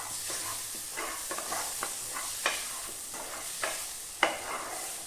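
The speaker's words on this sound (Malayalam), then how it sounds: "മഞ്ഞൾപ്പൊടി ഇട്ട ശേഷം ഒന്ന് ഇളക്കുക." A spoon stirs turmeric powder through chicken masala frying in a pan, giving soft repeated scrapes and clicks over a quiet, steady sizzle, with a sharper knock near the end and no talking.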